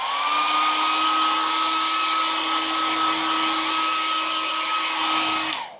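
A hairdryer drying acrylic paint blows loudly and steadily with a high whine, running continuously before abruptly switching off at the end.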